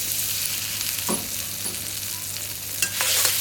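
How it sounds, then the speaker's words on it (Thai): Garlic and chili stir-fried in hot oil in a pan for a chicken and broccoli dish: a steady close sizzle with a few scraping stirs and light clinks of the utensil. "ผัดกระเทียมกับพริกให้มีกลิ่นหอม"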